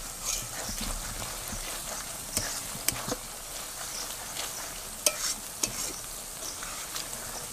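Cream skimmed from cow's milk being stirred in a pan as it cooks down into ghee, a constant bubbling sizzle with occasional clinks and scrapes of the spoon, with no voices.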